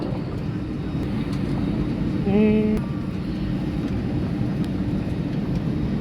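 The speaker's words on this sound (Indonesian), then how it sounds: "Ini kita udah masuk ke dalam pesawat." Constant low airplane cabin drone inside an Air Macau plane on the Jakarta–Macau route, with a brief tonal chime partway through and a voice speaking a word early on.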